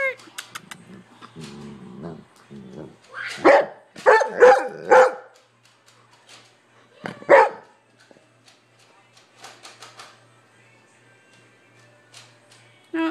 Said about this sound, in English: You barked too loud.